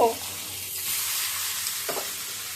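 Fish fry in hot oil with fenugreek seeds, giving a steady, close hiss and crackle that follows a brief clink at the start.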